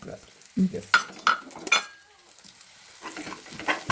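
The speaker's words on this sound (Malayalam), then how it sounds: "നന്നായിട്ട് നന്നായിട്ട് ഇളക്കി കൊടുക്കുക" Spiced meat masala being stirred in a cooking pot, heard as a few separate scraping and clinking strokes of a utensil against metal, with quiet pauses in between and a little background noise.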